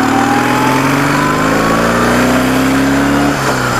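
A motorcycle with a fault that makes it pull weakly revs steadily as both cylinders pick up speed, the engine note climbing loud and close as it rides off, with no talking.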